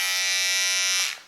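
A Mangroomer Ultimate Pro body groomer buzzes with a steady, loud electric hum that holds for about a second before cutting off abruptly.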